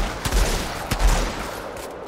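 Gunfire from the video game Outriders, during a solo Devastator campaign fight: a few loud, sharp shots stand out at intervals over a steady background of game noise.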